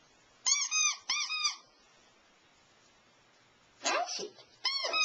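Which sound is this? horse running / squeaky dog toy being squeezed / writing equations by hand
squeaky dog toy being squeezed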